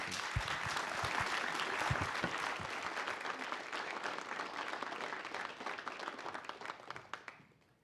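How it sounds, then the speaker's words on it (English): Audience applause for panelists at a gender leadership award event, a few distinct claps at first building into a broad steady ovation that tapers off and fades out near the end. "please give them a big round of applause"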